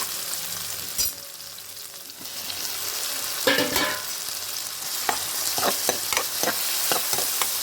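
Tomato pieces fry in a hot pan with a steady broad sizzle, broken by sharp scraping and stirring clatters that grow more frequent toward the end; no one speaks.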